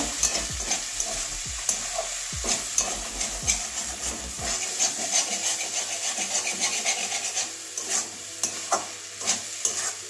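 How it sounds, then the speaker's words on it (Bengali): A spoon stirs an egg, cabbage and carrot curry in a pan, scraping in repeated strokes over a low sizzle, close and fairly loud, with no voices. "আবারও ভালো করে মিশিয়ে নেব"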